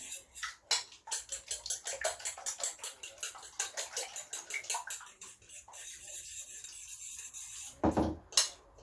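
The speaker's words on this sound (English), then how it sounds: "We're gonna use a fork and we're gonna mix it." Fork beating milk and eggs in a bowl for torrijas, a quick, steady run of close metallic clicks and taps that slows near the end with a few louder knocks.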